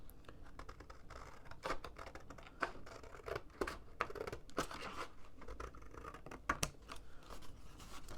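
Scissors cut wedges off a half-inch paper tab on a gift box, a string of quiet, close snips and crisp paper crunches at an uneven pace.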